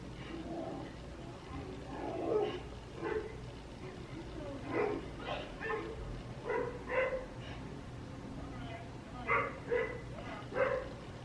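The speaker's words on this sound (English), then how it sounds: "I always get a little nervous when I hear dogs" Dogs bark in a series of short, muffled barks and yips from some distance, steady and faint against a low background hum.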